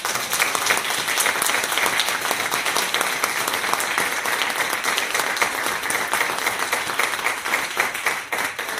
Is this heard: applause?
yes